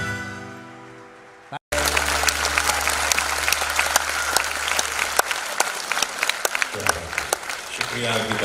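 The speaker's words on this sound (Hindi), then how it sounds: "शुक्रिया आपकी तालियों के लिए।" Loud, dense audience applause after a song at a Hindi film-song concert, a song's last held note cutting off before a crowd of many hands claps steadily and close for several seconds.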